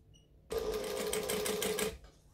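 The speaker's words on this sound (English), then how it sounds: "I'm just top stitching it an eighth of an inch" A sewing machine topstitches fabric on a backpack with interfacing, a close, steady rapid whirr of needle strokes that starts abruptly, runs about a second and a half, and stops cleanly.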